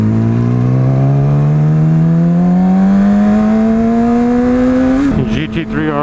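A Yamaha R6 sport bike engine revs steadily upward in a long, loud climbing whine, then drops sharply near the end and settles into a rough, burbling idle.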